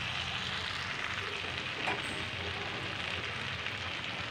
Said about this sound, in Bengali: সে তেলের উপরেই আমি আদা রসুনের পেস্ট দিয়ে দিলাম